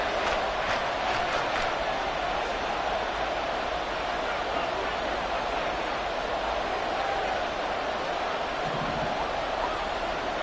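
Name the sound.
football stadium crowd cheering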